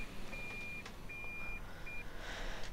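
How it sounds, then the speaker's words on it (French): A truck in Farming Simulator 2015 gives a thin, high reversing beep in a few regular pulses, faint over a steady engine rumble. "Petit bip de recul."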